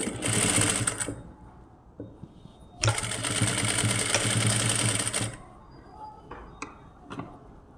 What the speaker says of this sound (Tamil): கெட்டி தையல் போட்டு முடிக்கிறேன்